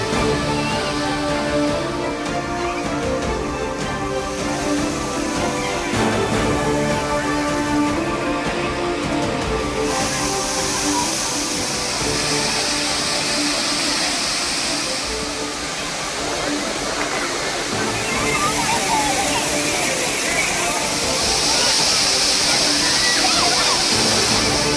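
Thirparappu waterfall in Kanyakumari rushing continuously with bathing tourists, a dense steady roar of falling and splashing water heard throughout, with voices of people mixed in under it.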